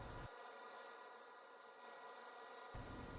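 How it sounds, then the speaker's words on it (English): 80 grit sandpaper rubs against a turned wood and resin vase, a steady, close, coarse scratching hiss that continues for about two and a half seconds. "Starting the sanding process here with 80 grit sandpaper"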